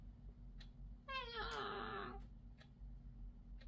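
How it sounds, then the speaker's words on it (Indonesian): A cat gives one soft, drawn-out meow in a quiet room over a low steady hum, with a few faint clicks around it. "Ia mengeong selembut mungkin."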